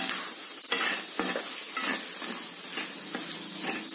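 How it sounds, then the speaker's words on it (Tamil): A fried egg seasoned with pepper and salt is stirred in a hot pan for egg fried rice, with repeated close scraping strokes over a continuous sizzle. "முட்டை நல்லா வறுபட்டதுக்கு அப்புறம் இது கூட தேவையான அளவு மிளகுத்தூள், அப்புறம் தேவையான அளவு உப்பு, இதெல்லாம் சேர்த்திட்டு ஒரு டைம் லைட்டாக இதை கலந்துடலாம்."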